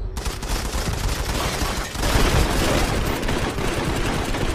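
Rapid gunfire in a shooter video game, dense continuous bursts of shots filling the whole clip, loud and close with no pauses and no talk over it.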